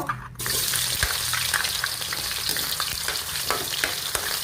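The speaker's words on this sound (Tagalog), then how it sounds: "Una, ang patatas, piprituhin ko." Potato pieces fry in hot oil with a loud, steady, close sizzle that crackles and spits the whole way through, following a brief quieter moment at the start; no one speaks.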